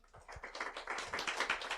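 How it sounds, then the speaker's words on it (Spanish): A crowd at a church sermon claps in a short quick burst of applause, irregular overlapping hand claps building slightly, moderately close, without talk. "Yo le daré un aplauso a Cristo"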